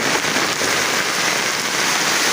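Heavy rain pouring down, a dense, steady roar of drops hitting surfaces, loud and close with no pauses or voices.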